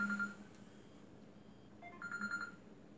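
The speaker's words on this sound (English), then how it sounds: "And I'm so sorry about my phone." A mobile phone rings indoors during a diamond painting session, its electronic ringtone sounding as short repeated melodic bursts at the start and again near the end, faint against a quiet room.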